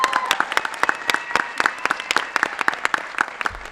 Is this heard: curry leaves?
no